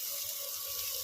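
Water poured into a mixer jar to rinse off leftover fennel and poppy seed paste, a brief steady hissing stream running close by.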